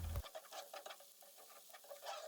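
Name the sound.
sautéing red pepper paste in a pan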